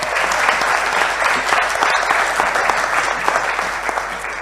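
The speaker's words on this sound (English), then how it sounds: "so big applause." An awards ceremony audience claps in a steady, full round of applause, moderately loud and even throughout with no voices over it.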